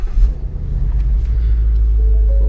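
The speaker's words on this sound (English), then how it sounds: "Alright, let's get this car going here." A car engine cranks and catches, then settles into a steady low idle rumble, loud and close.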